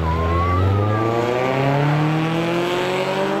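Drag race cars launching at the green light in a two-lap spectator shootout, engines revving hard and rising steadily in pitch as they accelerate away, loud and close.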